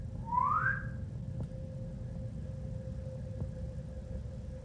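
A short rising whistle by a person early on, fairly faint and alone over a steady low hum with a constant tone, followed by quiet background.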